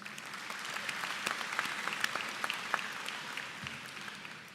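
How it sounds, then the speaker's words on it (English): Steady applause from the audience at a high school graduation ceremony, a dense crowd of clapping hands sustained for several seconds at moderate level before tapering off at the end. "Let's give them a round of applause."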